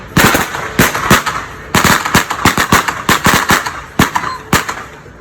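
Consumer fireworks set off at close range, a rapid irregular string of sharp loud pops and crackles, roughly a dozen bursts in quick clusters, with no voices over them.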